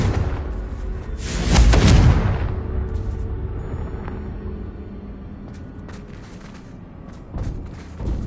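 A Confringo fire spell explodes in the video game Hogwarts Legacy: a loud, booming blast that swells and fades, followed by lighter crackling bursts and a quieter rumble.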